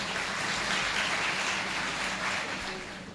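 An audience at a university Kashmir Day Urdu speech competition claps to welcome the next participant. The applause forms a broad, steady wash that fades slightly toward the end.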